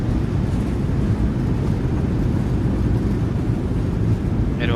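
Thrust reversers roar on a PMDG 737 landing in a flight simulator, a steady broadband rumble that holds loud and unbroken throughout, with no talk over it.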